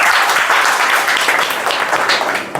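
A group of children applauds at a tree-planting campaign gathering, quick overlapping claps forming a loud, continuous patter nearby that holds steady and then eases slightly toward the end, with no voices on top.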